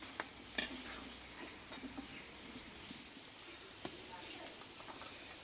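A metal strainer clinks and scrapes in a pot while boiled jackfruit seeds are lifted from the water, with light irregular metallic taps and splashes at close range.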